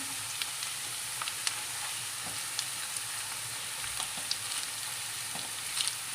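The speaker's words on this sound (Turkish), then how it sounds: "Bunları iyice kavuracağım." Onions with tomato and pepper paste fry in a pan, giving a steady, close sizzling hiss with occasional faint pops and light stirring ticks throughout.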